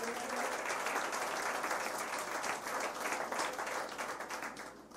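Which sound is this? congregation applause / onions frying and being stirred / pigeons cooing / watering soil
congregation applause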